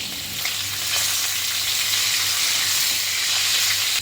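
Curry leaves crackle in hot tempering oil with mustard seed, cumin and hing for pearl millet khichdi, a close, continuous frying sizzle with occasional soft pops.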